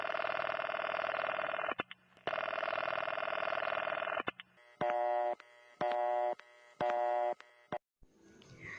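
Telephone ringing on an old operator-connected line, repeated long ring bursts followed by several shorter tone bursts, clear and steady with brief gaps between them.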